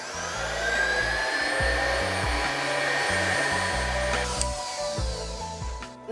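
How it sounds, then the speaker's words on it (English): An electric mixer whirs steadily as it beats egg yolks with sugar until pale and fluffy, its loud motor hum stepping up and down in pitch as the speed shifts. "So I'm gonna mix 8 egg yolks with sugar. I'm gonna mix them until they're white and fluffy."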